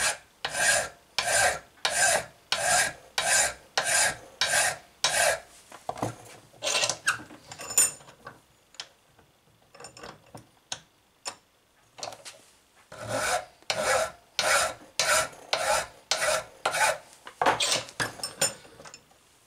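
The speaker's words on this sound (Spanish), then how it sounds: "Vamos a limar las rebabas." Metal file rasping burrs off lock pick handle stock, a rhythmic series of sharp scraping strokes in two bursts separated by a quieter pause with faint handling sounds.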